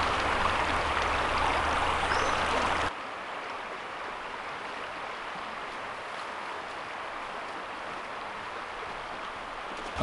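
A river runs steadily along a wooded park bank where canoe campers stay, a loud broad rush for the first few seconds and then a softer, even flow that continues alone.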